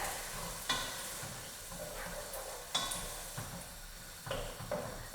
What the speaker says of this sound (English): Now, I'm going to add the chickpeas. Throw them in. Give that a stir.